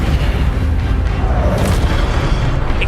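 An Incendio fire spell blast in Hogwarts Legacy erupts as a loud, continuous roaring boom with heavy low rumble that sustains for several seconds without letting up.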